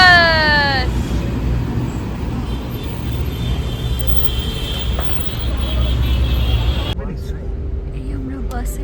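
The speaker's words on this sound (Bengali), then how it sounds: "আমাদের বাস ঢুকে গেছে" A bus pulling in at a stop, its engine rumbling low and steady up close amid traffic noise, with a brief rising whine at the start and a sudden drop near the end.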